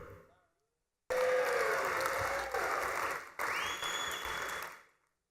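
Applause from a hall-of-fame induction banquet audience bursts in suddenly, loud and dense, with a brief dip midway before resuming and then fading out at the end.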